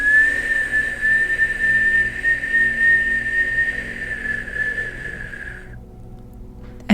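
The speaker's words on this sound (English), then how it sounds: "inhaling in a whistle." A long, steady whistling inhale during Kundalini yoga breathing, a thin sustained tone that holds for several seconds before cutting off abruptly into quiet.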